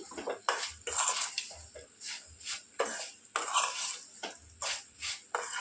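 Crispy potato fry tossed with chili powder in a pan, a spatula scraping and knocking against the metal in an irregular rhythm of close, fairly loud strokes, with no talking.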